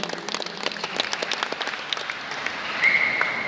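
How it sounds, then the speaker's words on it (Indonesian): Audience applause at a speech by the chair of the Indonesian Red Cross (PMI) branch in Kapuas Regency, a steady patter of clapping at moderate level with a brief whistle-like tone near the end. "Tepuk tangan dulu untuk kita sekalian."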